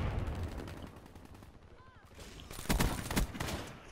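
Shotgun fire in the video game Call of Duty Black Ops 3: a few loud, sharp blasts cluster near the end, over a busy, noisy game-battle background.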